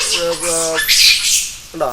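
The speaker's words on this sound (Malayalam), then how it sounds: "നല്ല ആംബിയൻസ് കേൾക്കുന്നില്ലേ, കുരങ്ങുകൾ ഒച്ച ഉണ്ടാക്കുന്നത്" Monkeys call loudly nearby, a run of harsh, shrill squawks rising into a screechy burst, then one more call at the end.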